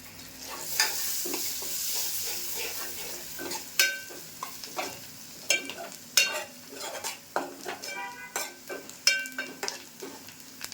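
Coriander sizzling in hot oil tempering with Malvani masala and chilli powder for an egg curry, with steady frying hiss and repeated clinks of a spoon stirring against the pan; no talk.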